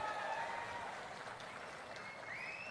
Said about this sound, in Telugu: ప్రజల తరపున మీరు కూడా గట్టిగా చప్పట్లు కూడా చెప్పండి, వాళ్ళని అభినందించండి